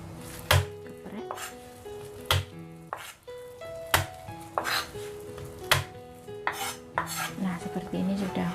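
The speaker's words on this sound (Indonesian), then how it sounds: "ini saya belah menjadi 2 bagian dan kemudian kita geprek" Halved shallots crushed with a flat knife on a cutting board while preparing a fish recipe: a series of sharp, separate thuds and knocks with a little clatter in between, close and fairly loud, with no talking.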